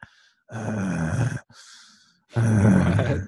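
A voice imitates heavy, labored breathing: two long, loud rasping breaths with a short, softer inhale between them, close and harsh.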